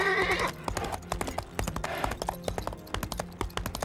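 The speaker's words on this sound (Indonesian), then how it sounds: "Kuda yang baru Bapak beli sudah siap dicoba." A newly bought horse's hooves clip-clop in a steady run of sharp, close knocks, with a brief whinny at the start.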